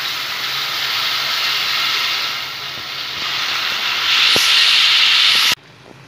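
Chopped raw mango hitting hot oil with panch phoron for a sweet and sour garlic mango pickle, giving a loud, steady sizzling hiss that swells near the end and then cuts off abruptly.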